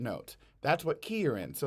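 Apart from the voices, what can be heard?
No everyday noise stands out behind the speech.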